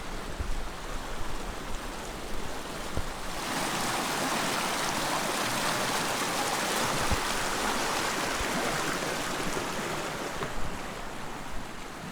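A small mountain stream along the Pamir Highway in Tajikistan, rushing water close by and growing fuller and louder after a few seconds as it is crossed on foot, a steady wash continuing without voices.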